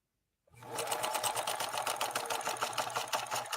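A 1957 Phoenix 283F sewing machine made by Adler runs a straight stitch, starting abruptly from silence into a steady, rapid, close-up mechanical whirring hum that continues without pause.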